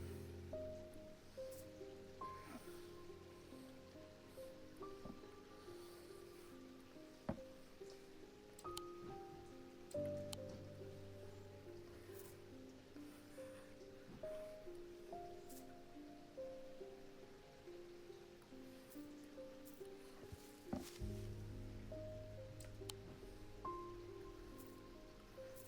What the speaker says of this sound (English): The sound of the rain, so nice.